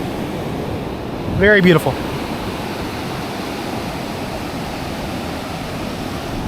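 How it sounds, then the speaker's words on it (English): Ocean waves wash continuously onto the beach at Lázaro Cárdenas, Mexico, a steady broad roar with wind, while a person briefly speaks near the microphone early on. "So of course I'm gonna take a 2 to 3 minute clip of the beach."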